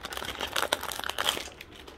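Crinkling of a plastic Lego Super Mario Series 3 mystery bag being wrestled open, dense crackly rustling with sharp crunches and sudden pulls throughout, close and continuous, no voices.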